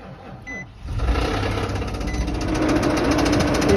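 The bad engine of a 2008 Nissan Pathfinder in a junkyard cranks briefly, then catches and runs with a rough, loud, steady idle close by for several seconds.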